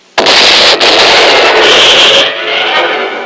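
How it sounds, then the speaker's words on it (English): A cartoon sound effect of a comet striking a dead sun erupts suddenly into a loud, sustained crackling blast that holds for about two seconds before easing into a fizzling, rumbling tail. "The catastrophic explosion rents the heavens apart"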